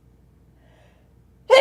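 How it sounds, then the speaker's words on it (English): A single sharp human sneeze bursts out at the very end after near silence, loud and close. "I'm gonna sneeze."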